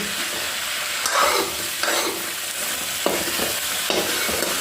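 Vegetables with cauliflower fry in a home-cooked sabzi pan, a steady sizzle with several distinct scraping stirs spaced about a second apart, close and moderately loud with no talking.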